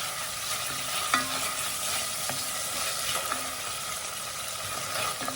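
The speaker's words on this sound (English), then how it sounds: "And then stir them up." Thai green curry paste stirred in a hot pan, a steady close sizzle with a few sharp scraping strokes of the spoon at irregular intervals, no voices.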